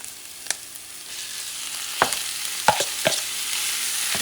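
Ground beef sizzles in a pan with garlic for Puerto Rican rice, a steady frying hiss broken by several sharp spoon scrapes and clinks against the pan.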